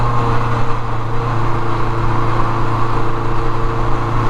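Engine of a 1979 Kawasaki KZ650SR vintage motorcycle running steadily under load while riding, a loud continuous drone with wind rush and no speech.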